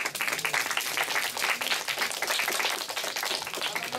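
A school audience applauding at the close of an in-school reading debate contest, dense continuous clapping from many hands filling the room at an even level throughout.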